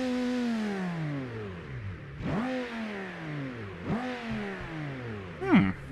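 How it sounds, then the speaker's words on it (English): A Viper-like car engine in a racing video game revs repeatedly, its pitch climbing and dropping through several gear-shift sweeps, loud and close with a sharp final blip. "I've never played with this engine, but this thing sounds like a Viper"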